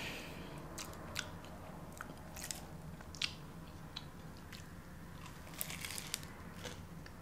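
Crunchy chewing and biting on a Whataburger fried chicken sandwich, close and quiet, with scattered sharp crackles over a steady low background and no talking.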